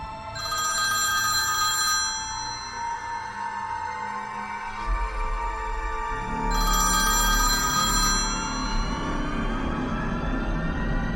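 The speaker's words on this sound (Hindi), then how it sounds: "इतने में मेरा मोबाइल बजा।" A mobile phone ringtone plays loudly and steadily, a bright repeating electronic ring with a deeper tone joining midway, with no talking over it.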